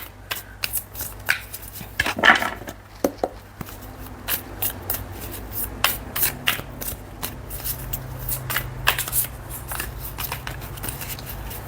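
Cards are shuffled repeatedly in quick riffling bursts, close up, with soft clicks and snaps in between and a low hum behind.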